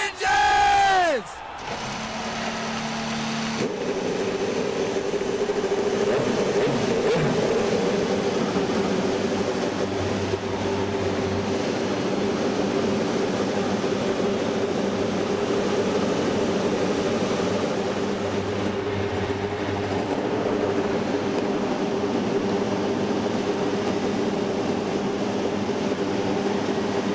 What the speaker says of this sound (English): 25 engines come to life here at Homestead-Miami Speedway